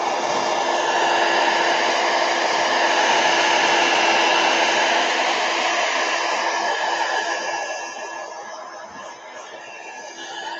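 A hair dryer blows steadily to dry the back of a gesso-coated sheet, a loud continuous whoosh that eases slightly near the end.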